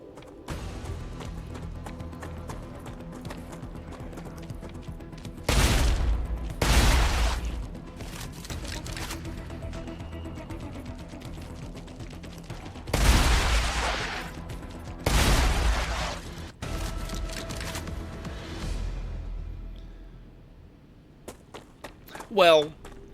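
Shotgun blasts in the video game StarRupture, a handful of heavy booming shots in two pairs spaced several seconds apart, each with a short decaying tail, over a steady game ambience while someone talks throughout.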